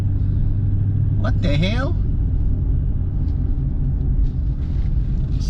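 A 2001 Mercedes ML430 (W163) driving after leaving limp mode, transmission now shifting: a low, steady cabin rumble of the engine and road throughout, with a man briefly exclaiming over it.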